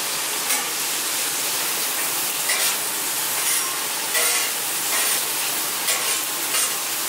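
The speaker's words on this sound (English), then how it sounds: "wanna steam these mushrooms a little bit" Mushrooms steam and sizzle in a hot pan alongside a T-bone steak meal, a dense, even hiss with occasional brief crackles and stirring, close and fairly loud with no voices.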